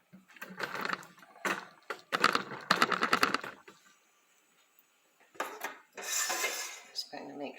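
Frying pan handled on a stovetop while cooking roasted chicken and asparagus, with clattering metal knocks and scrapes in quick irregular bursts, a brief quiet gap, then a sizzling burst and more clinks.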